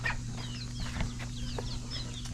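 A rooster and hens cluck softly in a hen house on a homestead, short scattered calls over a constant low hum, fairly quiet and somewhat distant.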